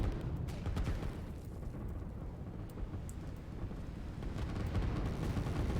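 Artillery fire in a real-time strategy video game tournament match: a continuous heavy low rumble of distant booming blasts, dense and steady throughout with no speech.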